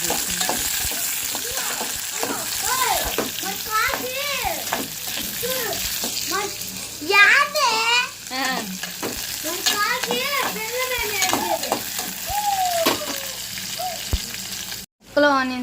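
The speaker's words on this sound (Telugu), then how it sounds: "ఫిఫ్టీ పర్సెంట్ ఫ్రై అయిన తర్వాత ఆనియన్స్ కూడా వేసుకొని శుభ్రంగా ఫ్రై చేసేసుకోవాలి" Onions and other pieces fry and sizzle steadily in a pan while being stirred, with people talking over the cooking throughout.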